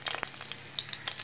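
Whole garam masala and two green chillies frying in sesame oil in a pan, a close, steady crackling sizzle with popping spits and a brief stir.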